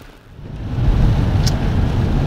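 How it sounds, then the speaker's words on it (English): A steady low rumble and hiss of road noise fills a Dodge Journey cabin, building after a quieter start and holding constant with a brief faint click. "You can hear plenty of road noise in this thing"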